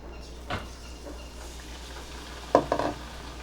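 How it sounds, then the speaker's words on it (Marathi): Besan-coated bread patties dropped into hot oil and deep-frying, a soft continuous sizzle with a few sharp bursts and clinks, close but quiet and alone. "गरम तेलामध्ये सोडायचं"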